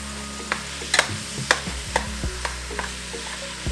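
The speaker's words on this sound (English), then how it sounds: "Since we're gonna be cooking this for a while, I don't want it to dry out, so I'm using 80-20 ground beef." 80-20 ground beef fries in a pan with a steady low sizzle, punctuated by sharp spatula scrapes and clicks roughly every half second as it is stirred, with no voices.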